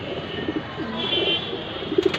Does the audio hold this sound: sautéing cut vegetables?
no